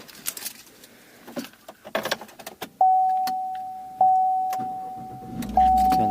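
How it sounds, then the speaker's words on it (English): A 2018 GMC Sierra 1500 pickup has its ignition turned on, with a few clicks and rustles followed by a steady electronic chime tone repeating three times, close and clear. "I'm just going to turn the ignition on."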